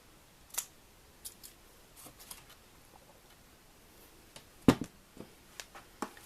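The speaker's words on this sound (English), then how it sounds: "Maybe use my scissors to help push that on in." Metal scissors press a small flower decoration into a printed candle, making faint scattered clicks and scrapes up close, with one sharper snap in the middle and quiet gaps between.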